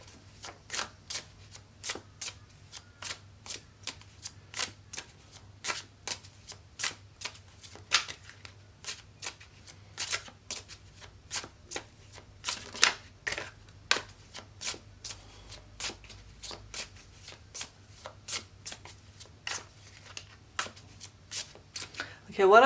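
A deck of Pure Love Oracle cards is shuffled again and again in quick riffling bursts with short pauses between them, close and crisp, with a faint low hum underneath.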